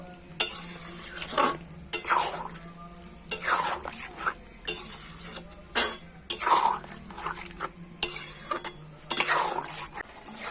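A spoon stirs tomato pickle with jaggery in a pan, giving repeated scraping strokes against the metal in an irregular rhythm with soft sizzling beneath, close and fairly loud.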